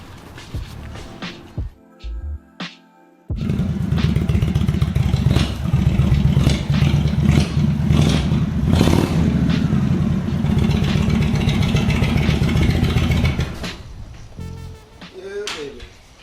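After a few seconds of cranking and clatter, a car engine fires up and runs loudly close by for about ten seconds before cutting off, with voices heard throughout.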